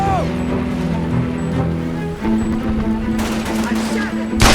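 Gunfire in Mercenaries 2 on PS3 rattles through a dense, continuous battle din, with a steady mechanical drone underneath and a sharp louder burst at the very end.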